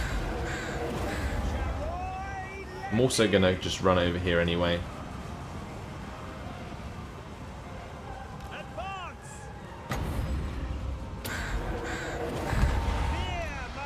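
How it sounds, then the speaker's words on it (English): Crows caw repeatedly during a crow storm spell in the fantasy strategy battle game Total War: Warhammer 2, harsh calls bursting in clusters over a battle rumble while someone talks. "we will put down a crow storm over here"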